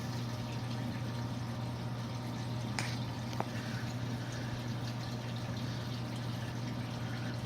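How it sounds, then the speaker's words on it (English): Steady bubbling and trickling water in a 29 gallon aquarium sump, a continuous low churn with a faint hum underneath and a couple of brief clicks, close and fairly quiet. "See all that bubbling?"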